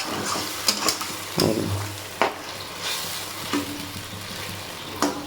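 Water poured into spice paste frying in a pan brings loud bursts of sizzling and bubbling, broken by a few sharp scrapes of stirring; no one speaks.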